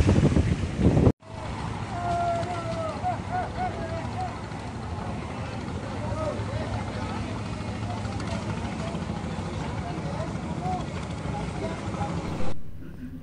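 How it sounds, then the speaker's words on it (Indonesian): Strong wind at sea buffeting the microphone in a continuous roaring rush, mixed with a steady low drone like a boat and some faint whistling tones, after a brief cut near the start. "keadaan anginnya ini terlalu kencang"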